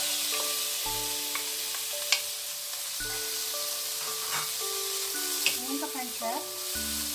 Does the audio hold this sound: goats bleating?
no